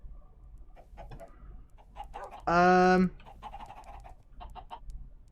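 A loud, tonal clucking call from chickens in a video game bursts out briefly midway, standing out over quieter background chatter and game-like ambience.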